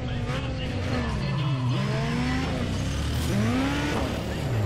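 A racing car in the video game Need for Speed ProStreet is driven at full speed, with constant engine roar and sweeping pitch rises and drops through gear shifts while someone talks over it.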